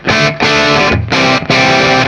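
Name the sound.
electric guitar with light amp distortion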